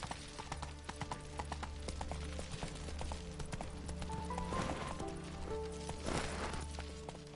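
Roach the horse gallops in The Witcher 3, with steady rapid hoofbeats that continue throughout, set over a busy layer of game music and ambience.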